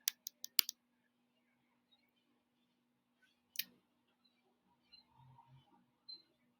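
Computer mouse clicks on a salary calculator: a quick burst of four sharp clicks, then a lone click a few seconds later and some faint soft tapping in a quiet room.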